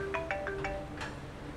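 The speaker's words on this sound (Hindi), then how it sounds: "मेरा फोन आ रहा है।" A mobile phone ringtone plays for an incoming call, a quick series of short melodic beeps followed by one more, faint and indoors with no talking.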